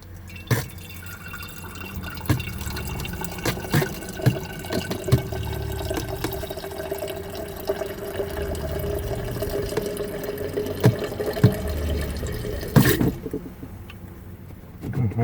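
Water drips from the hot water faucet of an RV being prepped for spring use into a jug, irregular drops and splashes over a steady background of running water across about fifteen seconds.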